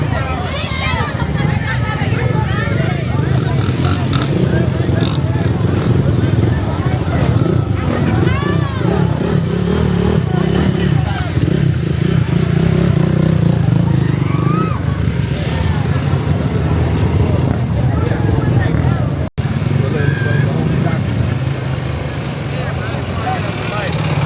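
Motorcycles rumbling and revving continuously at a crowded outdoor gathering of creators, engine drone loud throughout beneath constant crowd babble and people talking nearby.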